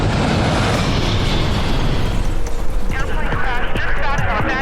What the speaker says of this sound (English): a calm holiday weekend is shattered by a devastating explosion